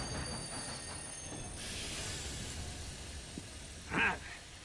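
A train rolls along in Red Dead Redemption 2 with a steady, low rumbling ride and soft clatter, then a short, louder wheel squeal near the end; no one speaks.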